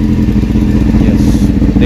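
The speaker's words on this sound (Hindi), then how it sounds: "मैंने अपनी बाइक चालू कर ली है" A motorcycle engine catching and settling into a steady, close, low idle rumble with a faint rattle on top, running continuously through the moment.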